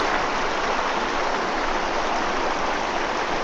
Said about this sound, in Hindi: ये कलकल की आवाज है